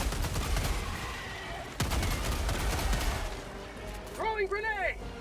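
Rapid bursts of gunfire from a gun in Helldivers 2, loud at first and then easing, with a single sharp shot midway and someone talking over the shooting; warbling alien chirps rise near the end.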